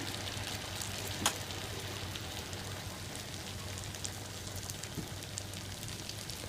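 Pappadam vada fries in hot oil with a faint, continuous fine sizzle and crackle, a single sharper pop early on and a few small ticks later, steady and quiet with no talking.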